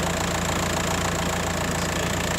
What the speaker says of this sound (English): That's the new fan spinning. The main fan spinning in there.